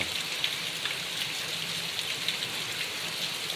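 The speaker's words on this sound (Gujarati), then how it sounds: "જોઈ લે, જબરદસ્ત વરસાદ પડે છે." Heavy monsoon rain pours steadily on a farm field, a dense even hiss with scattered patters of drops, no voices.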